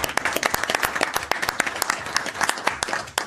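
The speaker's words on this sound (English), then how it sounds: "Let's give Andrea a round of applause." A council meeting crowd gives a short round of applause for a departing staff member, with crisp individual claps standing out in a moderately dense burst lasting about three seconds.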